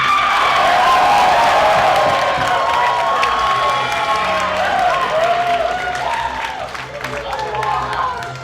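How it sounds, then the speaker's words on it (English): Loud crowd cheering and applause at a show after a clogging performer is introduced, with whoops and shouts over steady clapping that slowly fades, and voices calling out among the crowd. "Couple of crowd favorites when I was listening to that cheering"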